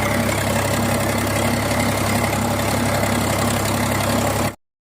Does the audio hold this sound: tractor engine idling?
yes